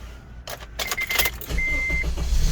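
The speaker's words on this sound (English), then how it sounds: "We're going to start the car" Honda Element engine turning over after a starter replacement: a brief key jingle, then cranking that catches into a steady idling rumble with a chime beeping, close up and without talk.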